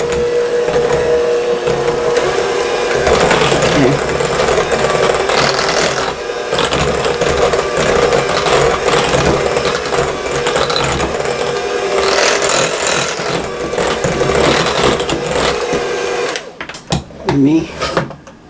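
An electric hand mixer whirs steadily as it beats strawberry cheesecake cream pie filling, running loud and continuous for about sixteen seconds before sputtering off into a few scattered kitchen clatters.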